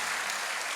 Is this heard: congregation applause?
yes